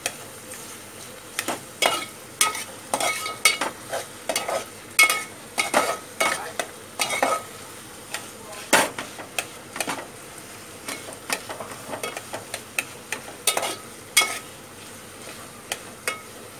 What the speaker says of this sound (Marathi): आता पूर्ण टोमॅटो असं नरम होईपर्यंत आहे ना परतत राहायचं